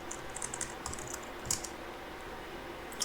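Fingers tap out a short command on a computer keyboard, a quick run of light, close key clicks with a brief pause and a final keystroke, quiet and without voices.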